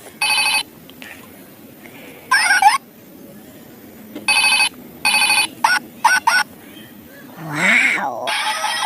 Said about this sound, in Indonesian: Ini ada telepon Hello Kitty ya teman-teman ya.